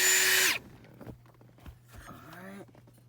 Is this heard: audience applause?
no